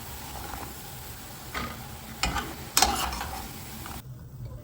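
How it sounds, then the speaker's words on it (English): Ripe plantain slices frying on a stovetop, a soft sizzle underneath a few sharp utensil clinks and taps, fairly quiet and close. "Let me continue frying."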